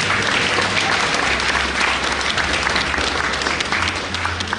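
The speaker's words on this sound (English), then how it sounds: "So clap yourselves." An audience at a book launch claps steadily and loudly throughout, a dense continuous wash of hand claps with no pauses.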